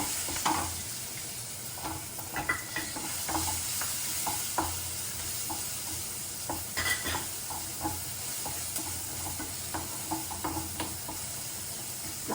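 Chopped green chillies and onions sizzle steadily in hot tempering oil with a dried red chilli, a constant close frying hiss broken by frequent light scrapes and taps of a stirring spoon, with no talking.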